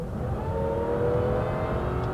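A supercharged Jaguar XKR engine revs with a steady, sustained whine and drone, close and fairly loud, with no voices over it.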